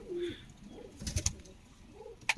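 Pigeon giving a few low, soft coos at a quiet level, interrupted by brief clicks and light scuffing sounds.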